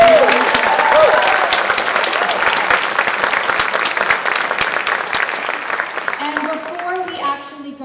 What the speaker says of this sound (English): So a round of applause for our faculty, our staff, and our administration.